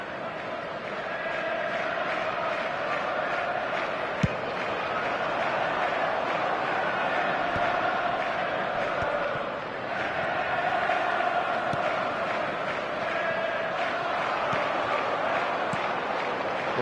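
A stadium crowd in the eFootball video game roars in a steady, dense wash throughout, swelling and dipping slightly, with occasional sharp pops and a brief lull near the middle.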